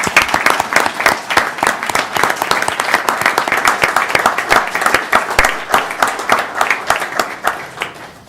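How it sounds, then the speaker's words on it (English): A city council meeting audience applauds uniformed officers, a dense, steady round of many hands clapping close by for several seconds, with occasional louder individual claps and no talk over it. "We could probably give our men and women in uniform a round of applause while they're here."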